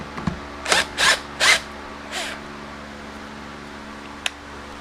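Power tool backing a screw out during rear fender repair on a salvage-title C5, heard as three quick whirring bursts in a row followed by a fainter fourth, close up over quiet room hum.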